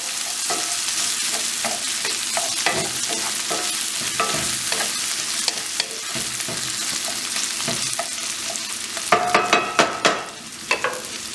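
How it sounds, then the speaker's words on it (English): Chicken korma ingredients stirred in a pan, a steady close sizzle under scraping and clinking of a spoon against the pan, with a louder flurry of stirring scrapes near the end. "Once you've got all your ingredients in, give it a stir, turn the heat down low."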